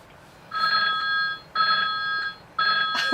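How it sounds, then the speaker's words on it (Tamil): A quiz timer rings out in three evenly spaced bursts of a bright electronic bell-like tone, each about a second long with short gaps between, clear and close against a quiet room. "டைமர் இருக்கு"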